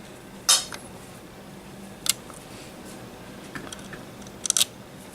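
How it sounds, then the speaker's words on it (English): Screws go back into an electronic device: three brief, sharp metallic clicks and clinks a couple of seconds apart, close up over a quiet hum, with no speech. "Then we're going to put the screws back in."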